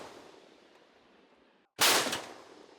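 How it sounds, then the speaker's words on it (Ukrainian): After a moment of near silence, a single loud, sharp blast from a tank's main gun bursts out and rumbles away quickly. "Постріл."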